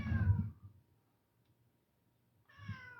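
A cat meows twice nearby, a drawn-out first cry, then a pause of about two seconds before a second, slightly softer meow.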